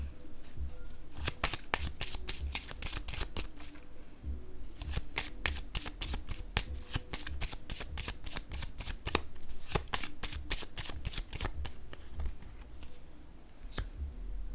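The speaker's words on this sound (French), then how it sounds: "Je vais piger une autre carte ici." A deck of tarot cards being shuffled by hand, giving dense bursts of crisp, rapid flicking clicks up close. The bursts come in runs with brief pauses between them, and no voice is heard.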